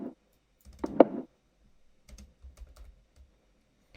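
A few dry, muted percussive clicks and taps land sparsely in a loose rhythm, close and quiet, with one sharper hit standing out.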